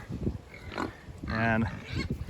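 Pigs grunt and snort in a muddy pen with water running through it, a loud rough burst of grunting rising in the middle, close by, with someone talking over parts of it.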